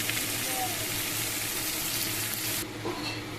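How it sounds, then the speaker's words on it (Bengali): Chopped onions fry in hot oil with a dense, steady sizzle up close, and a low hum runs beneath it. The hiss drops suddenly near the end. "পেঁয়াজটাকে আগে ভালো করে ভেজে নেব"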